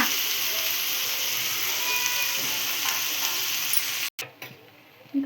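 Tomatoes hitting hot oil for a chicken curry, giving a steady, loud broadband sizzle in the pan that continues for several seconds before briefly cutting out and then returning.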